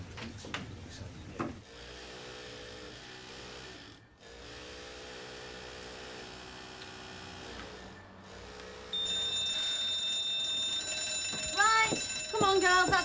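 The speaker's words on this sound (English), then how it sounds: "that's the fire alarm." A fire alarm in a 1997 Coronation Street scene starts ringing partway through, a steady, fairly loud tone that continues under voices and background movement.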